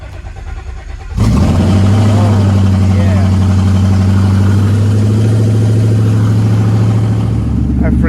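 A 2015+ Ford Mustang GT V8 fires up after sitting idle for over a week, then settles into a loud, steady, deep rumble that continues close by for several seconds.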